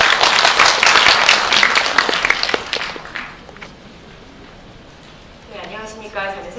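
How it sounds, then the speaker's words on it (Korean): Audience applause at a Korean language foundation international forum launch event fills a hall, loud and dense for about three seconds, then fades to quiet room tone before a person begins speaking. "뜨거운 박수로 맞아주시기 바랍니다"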